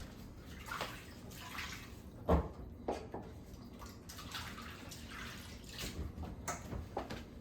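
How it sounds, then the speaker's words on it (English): Hands being washed under a running kitchen tap, a soft continuous water rush with a few louder splashes and clunks, fairly faint and close by. "let me wash my hands."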